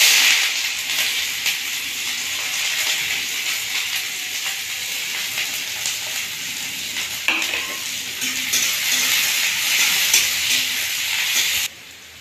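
Onions sizzle and fry steadily in a pan with occasional stirring scrapes, a continuous close hiss that cuts off abruptly near the end.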